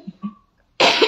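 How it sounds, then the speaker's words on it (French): After a couple of soft murmurs and a brief lull, a single harsh, close cough bursts out and rasps to the end. "Je vais un peu tousser."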